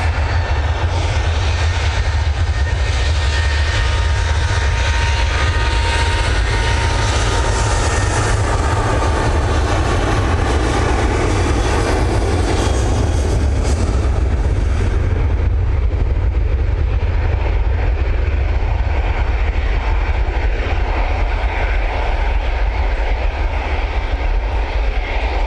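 An airliner departs Manchester Airport with a loud, sustained jet roar that stays strong and near for most of the stretch, then eases slightly toward the end.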